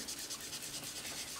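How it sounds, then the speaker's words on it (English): Colour is rubbed onto the pocket of a vintage-style paper notebook, producing a soft, rapid, rhythmic scratchy brushing, close and faint, without speech. "I'm going to rub it from the corner"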